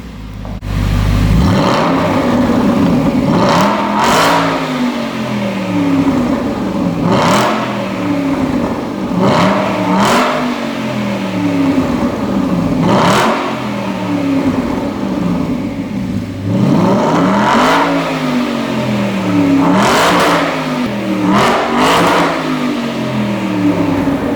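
A loud Aston Martin V8 Vantage AMR exhaust revs repeatedly, each throttle blip rising to a roar and falling back to a burbling idle, close and steady throughout.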